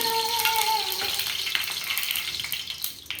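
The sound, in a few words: oil sizzling while frying in a pan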